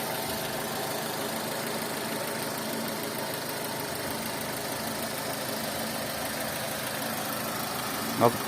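A 2009 Mazda 6 with a 1.8 petrol/gas engine idling steadily, a constant mid-pitched hum with a faint rhythmic knock, with a brief click near the end.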